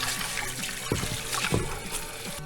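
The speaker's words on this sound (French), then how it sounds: "Je me lave les mains, histoire de ne pas foutre de l'encre partout" Hands being washed under a running tap after screen printing with ink, a steady close rush of water with a few splashy bursts as the hands move through the stream.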